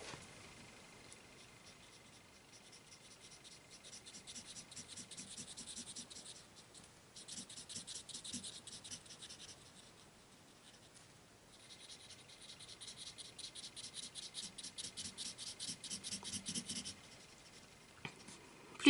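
A coloured pencil scratches across paper while a leaf on a cartoon Pokémon drawing is filled in, producing faint, rapid back-and-forth strokes in several bursts, close and quiet with no talking.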